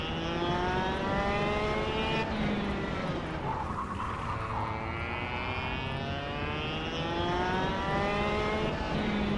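A go-kart engine whines and revs in the KartKraft racing video game, pitch climbing and dropping through gear-like sweeps as the kart brakes into a corner and accelerates out, loud and continuous with no talk.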